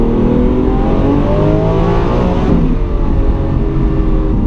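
Lamborghini Aventador V12 engine roaring loudly and continuously up close, its pitch rising and falling through rev blips as the gears drop, with a brief dip partway through.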